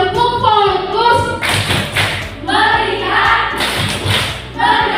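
Children in a classroom lesson simulation perform a rhythmic 'tepuk fokus' clapping routine, with loud taps and claps falling in short groups between chanted words, close and clear.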